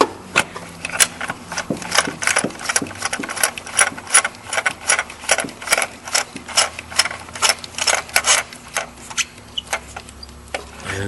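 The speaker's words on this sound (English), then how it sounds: "then you're going to need a ratchet. So tighten it in all the way" A ratchet tightening spark plugs on a 2008 Honda Accord, giving a steady run of quick, close clicks in an uneven rhythm with brief pauses, heard alone.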